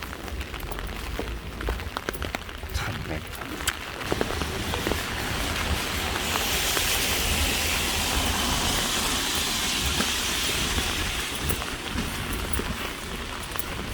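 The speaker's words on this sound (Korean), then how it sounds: "아 근데 비가 엄청 많이 오네" Heavy rain pours steadily outdoors near a library parking spot, a dense continuous hiss that swells louder after the first few seconds and holds to the end, with faint traffic rumble beneath and a brief muttered voice early on.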